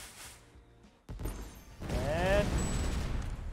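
Fireworks weapon fired in the artillery game Shellshock Live, a burst of crackling, whistling pops and a rising whine that swells after a brief lull and keeps sputtering, with a voice speaking faintly at the start.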